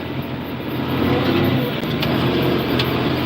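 A farm tractor engine at half throttle during planting holds a loud, steady rumbling drone that swells slightly as it revs, close by with no talk.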